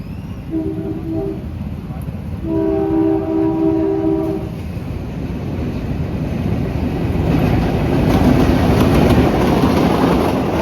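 A train runs on the Junagadh–Sasan Gir railway line, sounding two long horn blasts before a rumbling, rolling roar of passing cars that grows louder toward the end.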